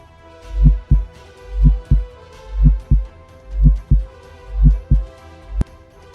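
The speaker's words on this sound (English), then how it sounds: "All I could hear was my heartbeat" A deep, heavy heartbeat thumps steadily in lub-dub pairs, about six beats at a slow even pace, loud and close over a low hum, with no talking.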